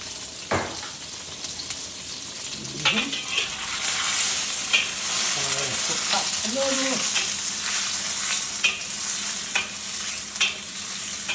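Cherry tomatoes and passata cook in a hot pan for a pasta dish, giving a steady loud sizzle and frying hiss with occasional stirring clinks and scrapes up close.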